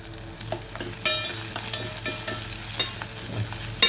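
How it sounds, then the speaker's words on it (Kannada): Curry leaves sauté in a pan with ridge gourd for a yogurt-based side dish, a close, continuous sizzle with regular scraping stirs and a firmer knock near the end. "ಹಾಗೆ ಕರಿಬೇವು, ಒಂದು 2 ನಿಮಿಷ ಬಾಡಿಸ್ಕೊಳ್ಳಿಕ್ಕೆ ಇದನ್ನು."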